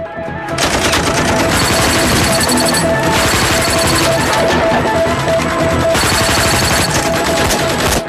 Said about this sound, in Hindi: हम तो फायरिंग कर रहे हैं सर